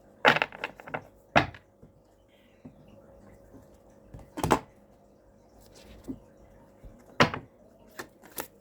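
A deck of cards being shuffled during a spiritual reading produces sparse, quiet snaps and flicks, irregularly spaced short bursts separated by near silence.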